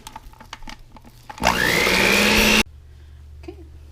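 An electric mixer blends chocolate chips and mini M&Ms into cookie dough. One loud motor whir lasts about a second, rising in pitch, then cuts off abruptly, with quiet handling sounds before and after.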